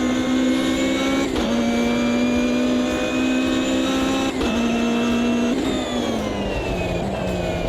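A Ginetta race car engine in the video game Automobilista 2 drones loud and steady near at hand, with pitch dips at each gear change under heavy braking.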